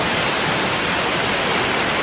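Middleham Falls in Dominica pours in a steady, dense, broadband roar, close and loud with no breaks, with no voices.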